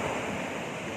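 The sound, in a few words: ocean waves growing stronger at high tide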